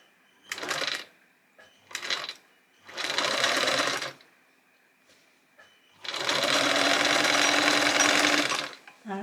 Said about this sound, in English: make sure that the thread lies between, in the gap of the presser foot, and I'm zigzagging over the top